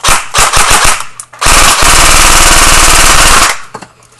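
Rapid bursts of Echo1 MTC1 airsoft rifle fire at an airsoft field: several short volleys, then one long sustained string of quick, loud pops, close by, with no talk.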